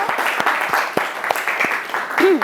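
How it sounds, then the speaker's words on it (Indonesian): A classroom gives a short round of applause, a few scattered, fairly close claps with a brief voice sound near the end. "Saya akan berikan tepuk tangan untuk Dimas dan juga Rio"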